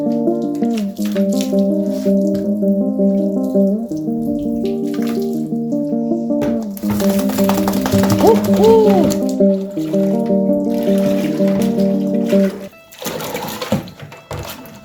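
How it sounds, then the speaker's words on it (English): Warm water runs steadily over a dog's fur as it is soaked during a home bath, a continuous wash of spray under a voice and tonal background music. "At least acclimatize the dog that it's getting washed by first soaking the fur."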